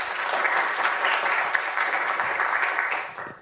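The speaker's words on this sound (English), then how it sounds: "let's give a big round of applause for Noon" Sustained applause from a conference audience, loud and steady with dense clapping throughout, fading slightly at the very end.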